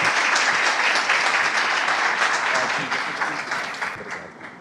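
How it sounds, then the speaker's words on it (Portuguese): Audience applause for a speaker at the Rio2C 2019 conference, a dense wash of clapping that holds steady and then thins slightly toward the end, with faint voices mixed in. "Por favor, aplausos"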